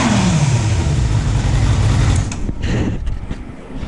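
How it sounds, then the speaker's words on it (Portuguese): Motorcycle engine, a Yamaha MT-03 fitted with a new Jescap exhaust tuned for a four-cylinder sound, revving loud and close, the roar rising then easing off into lower idle pulses. "Vamos ver como é que ficou o ronco dela realmente."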